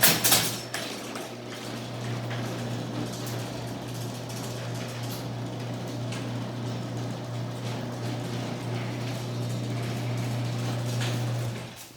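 A garage door opener runs with a steady mechanical hum and rattling, clanking drive noise that continues evenly before cutting off.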